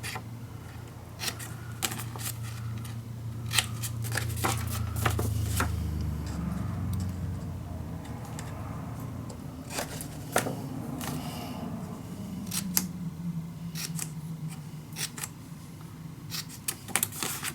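Paper corners cut for a handmade mini album, scattered crisp snips and clicks of a cutter at irregular intervals, close but fairly quiet, over a low hum that swells in the middle.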